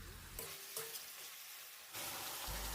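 Mutton curry frying in a pan is stirred, giving a steady close sizzle with scraping spoon strokes that briefly drop away before the frying surges again, no talking.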